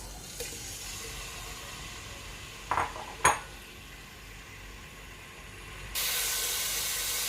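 Chicken pieces dropped into hot oil in a home kitchen pan while cooking white korma, giving a steady hissing sizzle with a couple of sharp clatters midway and a louder burst of sizzle near the end, no talking.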